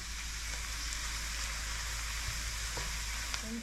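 Onions soften and sizzle in a pan for creamy scalloped turnips, a steady close hiss with soft crackles that runs without a break.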